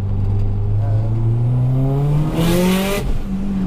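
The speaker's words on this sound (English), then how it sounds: "We'll let him hear our external wastegate." A 500-horsepower Subaru Impreza STI with an external wastegate revs hard on the road, its loud engine note climbing steadily in pitch. A burst of hissing rush comes near the end, then the engine settles back.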